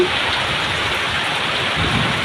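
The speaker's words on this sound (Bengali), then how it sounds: "বৃষ্টি কিন্তু হচ্ছেই মাঝে মাঝে যেভাবে বৃষ্টি হচ্ছে আবার আকাশে যেভাবে গর্জন দিচ্ছে খুব ভয়ানক" Heavy rain hammers down during an evening storm with wind at Charmonai, a loud, dense roar, while a low thunder rumble rolls underneath throughout.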